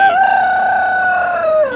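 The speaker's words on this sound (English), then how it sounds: "of course you hear my rooster" A rooster crows loudly and close by, one long sustained cock-a-doodle-doo filling the whole moment with no talking.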